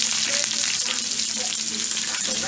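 Steak sears in hickory smoked bacon fat, a loud, constant hiss and crackle of frying with small pops, close up and without talk.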